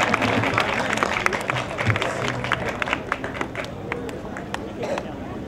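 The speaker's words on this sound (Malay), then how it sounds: "Berikan tepukan kepada Persatuan Silat Temenggung Gelanggang Kuala Kangsar" Crowd applause for a women's silat drum troupe at a Malay cultural gathering, steady dense clapping with crowd noise and a voice speaking over it throughout.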